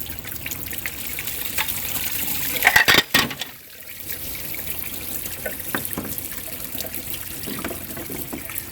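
Engine coolant trickles and drains steadily from a car into a bucket, with a brief clatter partway through before the flow continues.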